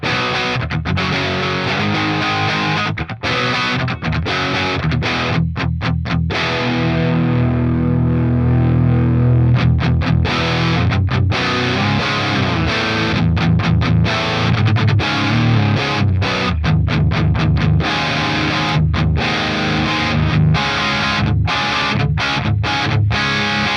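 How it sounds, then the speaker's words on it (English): High-gain electric guitar through a Revv Generator 120 green channel amp model roars with thick, saturated distortion, sustained chords broken by rhythmic palm-muted chugs and stops, loud and dense throughout with no talking. "As you can hear, the more gain you put, the kind of more insane big and fat it gets."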